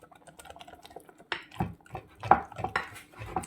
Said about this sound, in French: On mélange bien. Jusqu'à temps que le mélange devienne un peu clair.